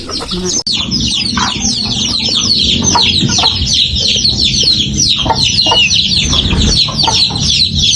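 Chickens clucking and chattering continuously in a rural provincial yard, a dense busy flock close by with overlapping calls, some faint voices and background noise mixed in.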